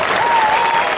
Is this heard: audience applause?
yes